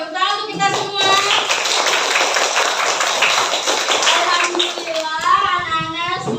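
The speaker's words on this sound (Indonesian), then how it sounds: "tepuk tangan untuk kita semua" A classroom of children clapping together, brisk and close, with kids' voices chattering around it and a teacher speaking at the edges.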